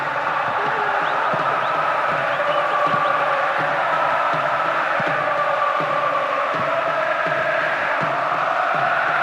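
Steady stadium crowd roar during a PES 2009 football match, a dense continuous wash of massed voices at constant level with faint rhythmic chanting and thuds beneath, never dropping away.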